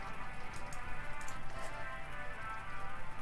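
Steady rain falling outside in California, a constant dense patter on surfaces heard alone at moderate level.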